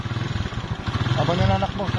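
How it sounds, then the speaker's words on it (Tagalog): A motorcycle engine idles and putters close by with a steady low throb, while someone speaks over it throughout. "sasakay naman kami sa motor ngayon para mas mabilis ang kami makarating"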